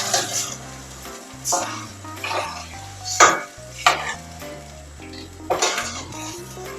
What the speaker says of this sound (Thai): แล้วก็ผัดพริกแกงต่อนะคะ